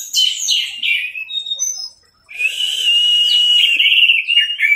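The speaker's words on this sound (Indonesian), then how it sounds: "Burungnya yang gacor, kasih lihat." An orange-headed thrush sings loud, close, rich whistled phrases, a burst of varied notes, a brief pause, then a long sustained warbling run.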